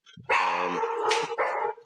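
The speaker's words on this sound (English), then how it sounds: "let Tuppy finish barking" A dog barks in a short, loud run of several close-up barks at home, with no one speaking over it.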